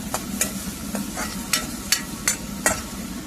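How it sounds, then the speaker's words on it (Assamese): Onions sizzle quietly in a pan while a utensil scrapes and stirs in a loose, repeated rhythm, roughly every half second. "এতিয়া পিঁয়াজখিনি ভাজি লৈছোঁ"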